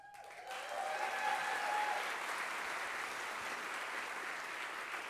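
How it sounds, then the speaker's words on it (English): Audience applause at a cabaret benefit telethon, swelling quickly after a short tonal sound and then holding as a steady, broad wash of clapping from a room full of people. "That deserves an applause, doesn't it?"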